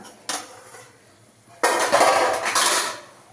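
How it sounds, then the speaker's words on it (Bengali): A metal pot lid is lifted off a pan of murighonto, the Bengali fish-head and rice dish, during cooking. A short clank comes first, then a louder, longer clatter and scrape of metal close by. "এই ঢাকাটা এবার খুলে দিলাম"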